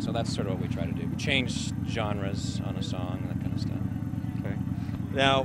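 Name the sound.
Harley-Davidson motorcycles running nearby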